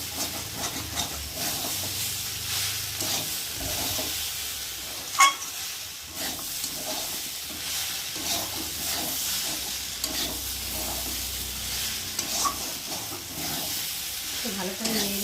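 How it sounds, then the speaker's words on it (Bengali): Fish head and Malabar spinach curry with taro frying in a pan, stirred steadily with a low continuous sizzle and hiss, scraping and stirring clatter throughout and a sharper knock partway through. "তো চলো এখন ভালো করে নেড়ে দিই।"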